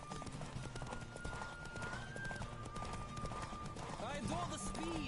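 Horse galloping in The Witcher video game: steady rhythmic hoofbeats drum underneath a voice, with a whinny-like call near the end.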